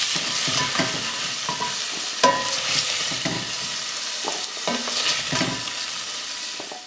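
Carrots sear in a hot pan for a pot roast, a steady close sizzle and crackle broken by a few scrapes and clatters as the pieces are moved about, with no voices.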